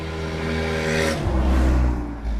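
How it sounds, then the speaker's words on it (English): A loud car engine roars past nearby, its pitch dropping as it goes by, with a steady rumble continuing afterward. "That's a really loud car."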